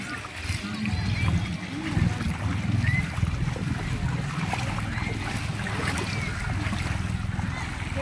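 A boat rumbles steadily on open water off Nasugbu, Batangas, with splashing and wind, while people talk Filipino over the noise.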